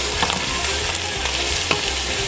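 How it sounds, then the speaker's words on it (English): Meat browning in a pan while being stirred, a steady loud sizzle with faint scraping strokes of the spoon in an Italian kitchen, no voices. "Jay's in the background stirring and browning that meat"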